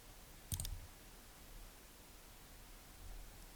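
A single sharp computer mouse click, brief and close, followed by quiet background hiss.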